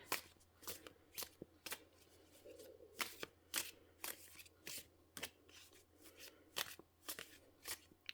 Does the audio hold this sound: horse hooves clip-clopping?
no